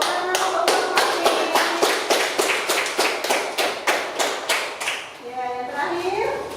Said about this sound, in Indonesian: Tepuk tangan untuk Pak Kopi.